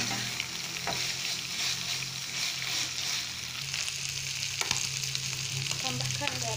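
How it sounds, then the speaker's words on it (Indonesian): Shredded tuna sambal fries in a pan while being stirred, giving a steady close sizzle with scraping spoon strokes throughout and no voices. "Kita aduk."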